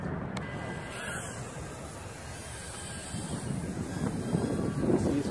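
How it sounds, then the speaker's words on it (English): Wind buffeting a Kingkong Tiny 6 FPV drone flying outdoors, a steady rough rumble of wind noise on the microphone that grows stronger toward the end, with no voices. "See, it's fighting the wind."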